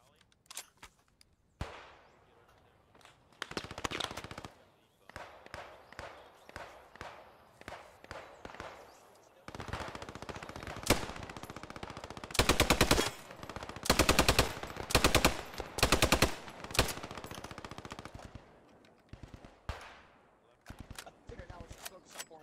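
Machine gun bursts and rapid gunfire in a multiplayer war video game, loud repeated volleys with short pauses, mixed with footsteps and a voice talking over the action.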